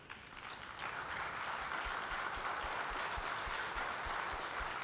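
A live audience at an interview event applauds champion Navdeep Singh with dense, sustained clapping that holds steady from start to finish.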